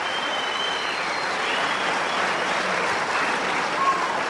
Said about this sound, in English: the applause tells you everything there